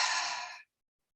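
A single long, breathy exhale during a tai chi breathing exercise, steady and close for about half a second before cutting off into silence.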